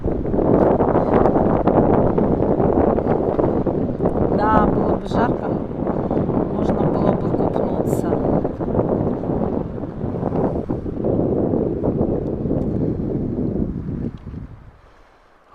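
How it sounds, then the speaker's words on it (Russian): Wind gusting steadily over an open river in Yakutia, a broad continuous roar buffeting the microphone for the whole stretch, with faint voices mixed underneath before the noise drops away at the end. "ветер дует"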